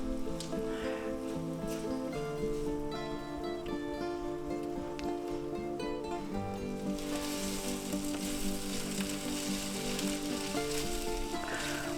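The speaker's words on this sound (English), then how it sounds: "we just stir that around a little bit just like that" Peppers and onions cook in a frying pan, giving a soft, continuous sizzling hiss beneath steady background music, with no clear stirring strokes standing out.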